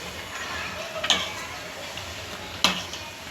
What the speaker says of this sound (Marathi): बस आता हे पुन्हा आपण हलवून घेऊयात